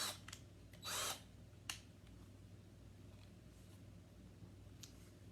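A TACKLIFE 20V cordless hammer drill gives a brief, close whir of about half a second, followed by a couple of small clicks in an otherwise quiet room.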